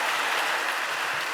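Brief, even wash of audience applause at a female founders startup conference, a dense steady clapping sound with no voices.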